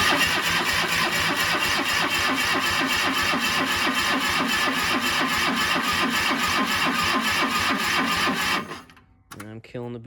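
An old, long-abandoned Cub Cadet lawn tractor engine cranks with a loud, steady rhythmic starter whir for about eight seconds, then stops, leaving brief quiet clicks and rattles.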